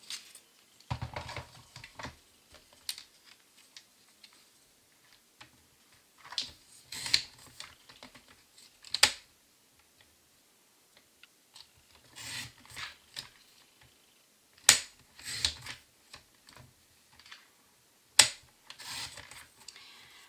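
A paper trimmer slicing strips of card for a handmade thank-you card, quiet scattered clicks and crisp cutting swipes repeated at irregular intervals in a still room.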